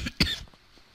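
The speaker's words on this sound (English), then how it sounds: "I'm coughing again." Two short, close coughs from one person, the second burst louder, followed by a quiet tail of breathing; played over a Minecraft Survival Games session.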